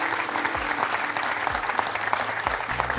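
A French television quiz show studio audience claps loudly and steadily for several seconds in dense, even applause.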